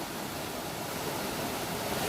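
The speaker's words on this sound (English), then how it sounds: "there's plenty of water tipping over the edge there" Water spills over the edge of Upper Furnace Pool in Coalbrookdale at the source of the Coal Brook, a continuous rushing roar that stays close and steady throughout.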